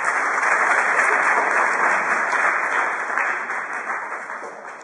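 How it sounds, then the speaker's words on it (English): Sustained audience applause at an indoor chemistry expo event, dense steady clapping from a large crowd that stays loud throughout and tapers only slightly at the end, with no speech over it. "We should give them a good applause and big hand."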